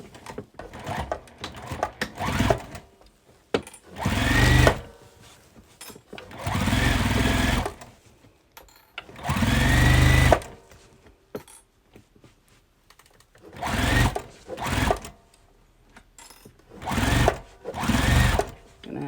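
Sewing machine stitching layers of a quilted bag, with several loud bursts of rapid stitching separated by short pauses and small handling noises; no voices.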